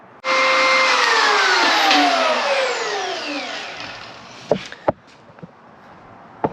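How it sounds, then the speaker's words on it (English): An angle grinder cleans up a hole cut in a wooden bow blank, a loud high whine that starts suddenly and runs steady, then spins down with falling pitch, followed by a few sharp knocks. "I'm just gonna take the grinder and clean it up along these lines so that we can finish out the hole"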